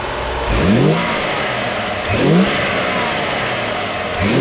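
BMW N55 turbocharged engine fitted with a Burger Motorsports air intake, blipped through two quick revs that rise and fall back to a steady idle, loud and close with no talking.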